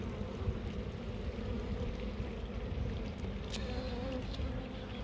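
Honeybee drones buzzing around an open hive, a dense, steady, close drone of many wings that runs unbroken throughout.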